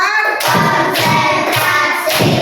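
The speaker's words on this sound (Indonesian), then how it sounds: "tepuk 1, tepuk 2, tepuk 3, tepuk 4" Four loud, evenly spaced hand claps in a counted classroom clapping routine led by a teacher, each a solid thump roughly half a second apart, with a voice calling along between the claps.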